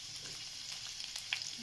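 Garlic sizzles in hot oil for a Marathi spicy garlic cauliflower stir-fry, a faint, steady crackling hiss with a few small pops, quiet and without speech.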